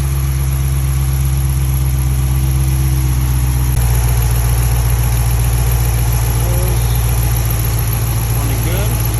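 A Hemi V8 engine idles after a warm start with its characteristic Hemi tick, a loud, steady, close-up rumble whose tone shifts slightly partway through and stays constant to the end.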